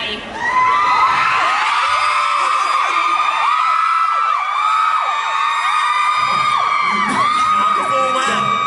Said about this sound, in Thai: มันแข่งกันกรี๊ดอะใครกรี๊ดดังสุด